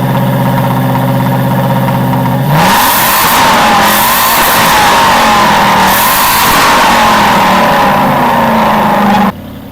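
Aston Martin engine fired up on a cold start, a low idle breaking into a loud sustained roar with a couple of rises in pitch before dropping back, close and unaccompanied by voices.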